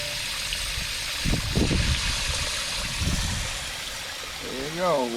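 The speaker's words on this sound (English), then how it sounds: "There you go, waterfall's running." Water from a DIY backyard koi pond waterfall splashes and trickles steadily while the pond refills, a continuous close wash with short bursts of talk over it and a brief rising-falling whistle-like tone near the end.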